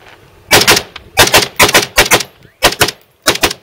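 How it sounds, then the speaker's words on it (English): Rapid fire from an MSAR STG-556 rifle during a function test: several quick loud bursts of sharp shots in clusters separated by brief pauses, close and dominant with no talk. "Let's do some rapid fire."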